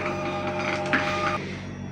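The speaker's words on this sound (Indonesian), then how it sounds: "Lalu kita cetak pakai X printer" Thermal label printer running steadily as it prints shipping labels for Lazada parcels, a continuous close motor whir with a brief click near the end, no talk over it.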